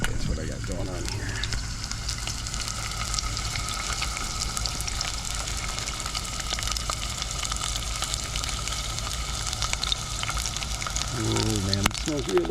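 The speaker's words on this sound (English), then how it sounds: "So I'm just going to sear this on either side and then put the butter in to let it cook" Salmon fillet searing in a hot pan, a steady close sizzle and crackle running throughout, with a voice speaking briefly near the start and again at the end.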